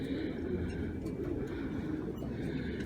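Pigeons cooing in a loft holding karışma and other breeds, a steady close bed of soft coos and bird calls throughout, with faint rustling and no clear talk.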